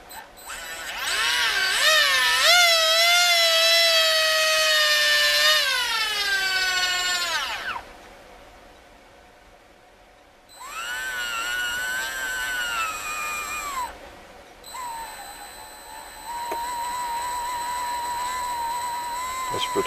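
A Leopard 4082 2000KV brushless RC motor whines as it spins up and down, with rising and falling pitch sweeps, a pause, then steadier high-pitched runs at close range, no talking.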